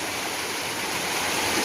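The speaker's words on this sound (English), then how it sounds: "We're going to see some waterfalls here on Steele's Creek." Rushing water of a waterfall and stream at Steele's Creek, North Carolina, a steady, even broadband hiss with no voices.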